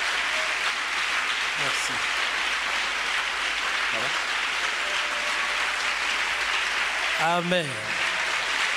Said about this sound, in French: Let's put our hands together for Jesus Christ, please.